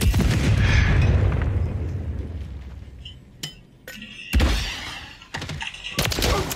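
Gunfire and heavy booms in a Call of Duty Modern Warfare 3 match: a loud rumbling blast fades out, then sharp, separate shots and impacts crack close by, with no talk.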